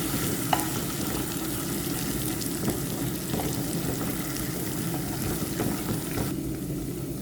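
Garlic shrimp frying in a pan with tomato paste being stirred in, giving a steady close sizzle with scraping and clinking stirring strokes throughout.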